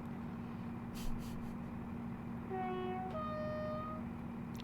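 A Sprinter diesel train in Train Simulator 2021 on a Liverpool to Manchester run gives a faint low engine drone, then a two-part horn blast sounds midway, with soft clunks, no talk.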